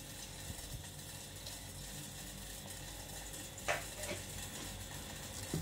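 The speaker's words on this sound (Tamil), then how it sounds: "நல்லா கலந்து விட்டுக்கலாங்க." A spoon stirs freshly cooked ven pongal in a pot after ghee is added, giving soft, steady scraping and sticky mixing noises with a few sharper clinks near the end, close and fairly quiet.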